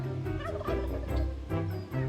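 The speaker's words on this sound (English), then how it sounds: "a whole flock of turkeys would come over to the door" Wild turkeys gobble near a house porch, a flock calling in repeated rattling bursts that overlap one another, close and loud with no talking.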